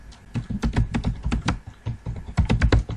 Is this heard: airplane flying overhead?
no